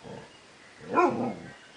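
One short, sharp dog bark, fairly close, rising out of a quiet background with faint low rumbling before it.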